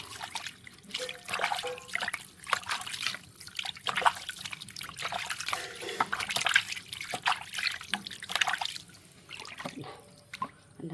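Water splashes and trickles in uneven bursts, close by, as feet are rinsed and washed under running water; no voices.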